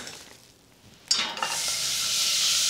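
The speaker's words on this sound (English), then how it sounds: "whilst those onions are cooking away" Finely chopped onion hits a hot pan for lamb kofta, bursting into a loud, steady sizzle after a brief quiet moment and continuing strongly to the end.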